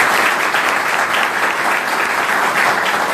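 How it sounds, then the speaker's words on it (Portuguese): An audience applauds at the inauguration of a legislative school in a council chamber: dense, steady clapping from many people, loud and sustained throughout. "Gostaria de pedir uma salva de palmas a eles"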